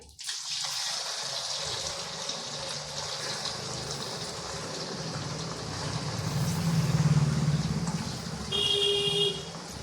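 Water runs steadily from a tap as hands are washed at a home kitchen sink, a continuous close splashing rush for the whole stretch, swelling louder midway.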